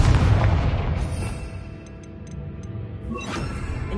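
A Confringo spell explosion in Hogwarts Legacy lands with a loud booming blast that decays into rumbling debris, then a second fiery burst erupts near the end.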